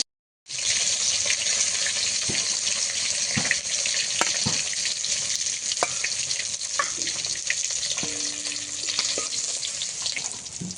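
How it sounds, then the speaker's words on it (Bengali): Hilsa fish pieces fry lightly in hot oil in a home kitchen. A loud, steady sizzling hiss starts abruptly and continues throughout, dotted with small pops and crackles. "এই মাছগুলো কিন্তু আমি বেশি ভেজে নেব না, একটু হালকা করে ভাজবো।"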